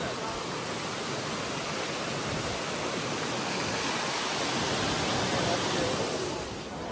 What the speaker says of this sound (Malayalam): അപ്പോൾ വാട്ടർഫോൾ നമ്മൾ കണ്ടു